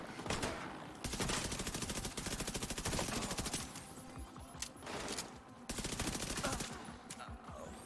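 In the video game The Division 2, MP5 and shotgun fire rattles out in long rapid bursts, loud and close, broken by short pauses, with a few sharp single shots between volleys.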